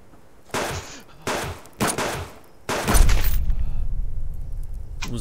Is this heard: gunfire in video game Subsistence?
yes